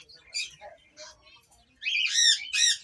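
Parrots and lorikeets in a bird shop, among them a blue-fronted Amazon, giving scattered quieter chirps and then two loud, harsh squawks close by, with faint voices in the background.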